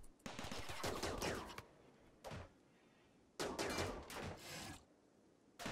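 Bursts of turret gunfire in RimWorld, rapid rattling volleys in three long stretches separated by brief pauses, loud and close.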